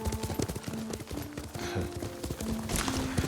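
In the video game Ghost of Tsushima, a horse's hooves clip-clop in a steady, rapid rhythm while it is ridden. The hoofbeats sit over a dense bed of ambient game sound and music.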